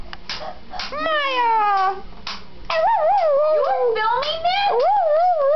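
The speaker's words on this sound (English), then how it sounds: "Dog." A dog howls and yowls in long wavering cries, close and loud, amid an indoor holiday gathering where people talk and laugh around it.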